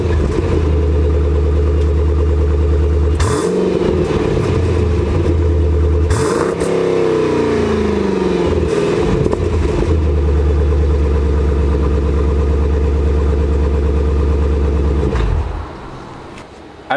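A Jeep SRT with about 100,000 miles on it, its exhaust loud and close as the engine idles in a steady low rumble, broken by three sharp revs that rise and fall before it settles back to idle and cuts off.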